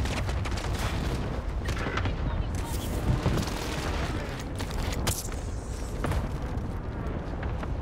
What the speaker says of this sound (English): Fuck, airstrike.